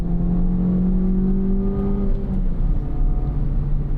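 A turbocharged Acura Integra Type S engine pulls under acceleration, giving a steady, muted, fairly quiet drone with a smooth rising tone throughout.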